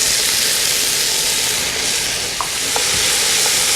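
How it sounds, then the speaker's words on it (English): Onions and garlic sauté in a pot for pot roast, a loud, steady broadband sizzle with a few faint stirring clicks, no voices. "the onions and the garlic are starting to pick up a little bit of color"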